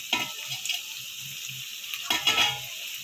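Green chillies sizzle in hot oil with browned onions for a chicken liver curry, a steady frying hiss broken by two bursts of spoon-stirring scrapes against the pan, close and fairly loud with no talking.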